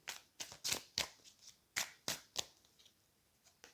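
Tarot cards are handled and drawn in a run of quick, soft, close riffling flicks, about a dozen brisk bursts with short pauses between them.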